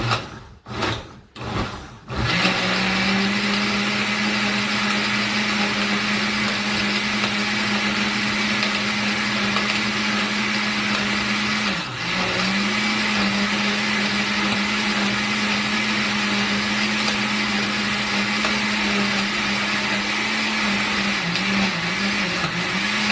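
An electric blender runs steadily and loudly for about twenty seconds, churning red chili sauce while a small onion end rattles and knocks around inside the jar, with a brief dip in the motor's whir midway.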